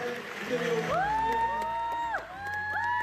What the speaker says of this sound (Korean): 환호성이 들리고요.